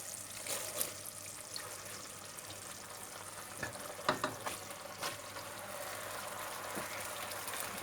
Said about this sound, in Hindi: इसमें राइस डालना शुरू करते हैं